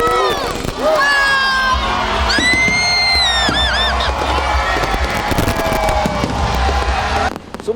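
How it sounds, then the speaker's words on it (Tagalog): New Year fireworks display over Quezon City bursts above a park while a crowd cheers and whoops, loud crackling explosions mixed with excited shouting and voices throughout, with high whistling rockets rising overhead. "Sumaboy rin sa kalangitan ng iba't ibang kulay mula sa fireworks display ng Quezon City."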